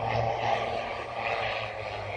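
Gamma Aviation medical flight aircraft arriving at Aberdeen Airport, a steady propeller engine drone that holds loud and even throughout, with a low hum beneath and no talk.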